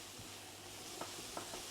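Garlic frying in a pan, a faint, low sizzle with a few soft scrapes of stirring near the end, no talking.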